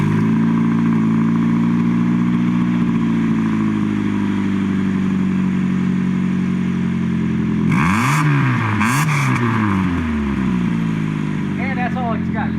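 Saturn car engine, an oil-burning unit, idling with a steady drone and then revving in a couple of sharp swells toward the rev limiter, heard up close with voices talking over it.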